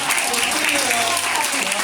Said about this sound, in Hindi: हमारे एंकर संतोष जी के लिए एक बार जोरदार तालियां बजाएं।